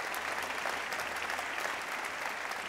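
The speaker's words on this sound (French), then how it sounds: "Je pense qu'on peut applaudir votre innovation." Steady applause from an audience at a business award ceremony honouring small enterprises, an even wash of many hands clapping, fairly faint and unbroken throughout.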